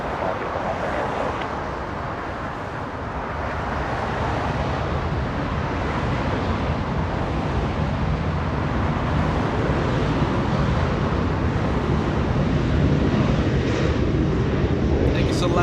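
An Airbus A380 airliner comes in on approach at Los Angeles International Airport, a broad, steady jet roar that swells gradually over fifteen seconds with some wind buffeting, as voices talk over it.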